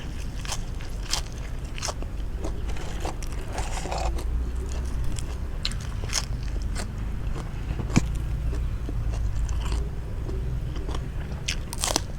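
Close, crisp crunching and biting on a boiled crunchy pork ear snack, eaten with bitter melon and dipping sauce, with repeated sharp bites and chews over about twelve seconds and no talking.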